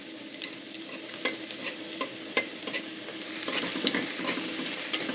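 Onions and two dried fish frying in hot oil with dried chilli, a busy sizzle broken by repeated scrapes and stirring clatters of a spoon against the pan, close and continuous.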